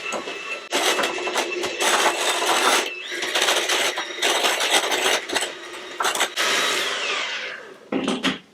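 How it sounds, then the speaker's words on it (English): Cream cheese filling for a frozen chocolate pie is mixed thoroughly in a bowl, giving loud, steady mechanical whirring in long runs broken by short pauses and a final brief burst, with no talking. "I'm just mixing this really thoroughly so that the cream cheese doesn't have any lumps."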